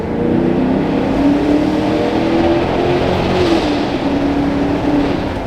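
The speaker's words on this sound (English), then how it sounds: "we're about to hit the big rev" A car engine drones steadily and loudly throughout, holding a sustained rev with slight rises in pitch, with no talking over it.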